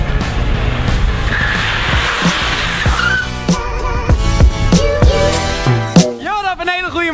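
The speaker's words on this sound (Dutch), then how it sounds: "als je rijdt, kijk hoor, en je trekt de handrem aan, dan slipt die als dat" A car engine roars as tires screech in a loud skid from a pulled handbrake, followed by excited shouting from people nearby.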